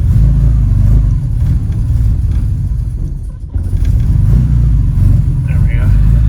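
A Jaguar XK150 with SU carburettors idles steadily without choke after sitting overnight, a loud low rumble that holds throughout with a brief dip near the middle.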